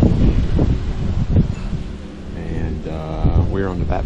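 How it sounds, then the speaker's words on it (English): Wind blowing outdoors on a winery back porch, steady rushing buffeting against the microphone throughout, with faint voices underneath. "it's a little windy"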